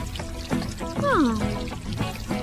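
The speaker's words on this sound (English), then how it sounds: "They're helping Daddy Pig water the plants." Watering can pouring water onto garden plants in a Peppa Pig cartoon, a trickling pour running beneath sliding cartoon voices or music.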